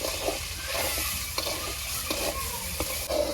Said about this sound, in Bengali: চালটা ভালোভাবে চাল চালিয়ে তারপর পানি দিই।